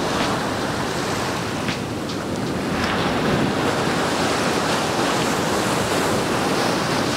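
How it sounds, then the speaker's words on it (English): Continuous roar of ocean surf breaking on a beach in Cape Town, South Africa, with steady wind noise buffeting the microphone and no voices. "listening to the ocean."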